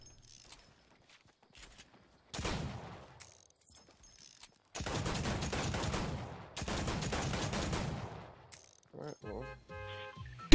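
The new six-shooter pistol in a shooter video game fires in a few loud, sharp bursts separated by silences, with mechanical clicks and reload sounds in between.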